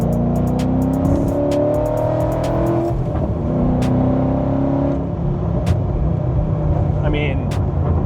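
A modified Ford GT drives along, its engine revving and pulling in a loud, steady, smooth roar that stays up close beneath a person talking.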